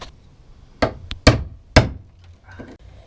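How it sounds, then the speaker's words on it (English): Three sharp metal-on-metal hammer strikes on a pin punch marking a car hood for hood pins, then a lighter tap, ringing out close by with short pauses and quiet in between. "we're going to mark that with a pin punch"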